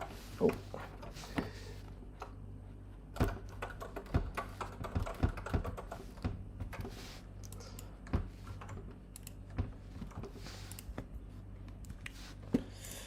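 Faint, irregular tapping of keys on a computer keyboard, with scattered sharper clicks over a low background hum, no talking.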